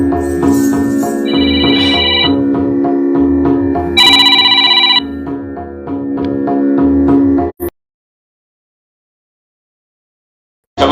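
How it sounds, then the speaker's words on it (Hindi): A phone rings repeatedly with a loud electronic ringtone in a patterned, chiming melody over several seconds, then cuts off into silence before a brief final burst. "बार बार किसी का फोन आने की वजह से मेरे को डिस्टर्ब हो रहा है"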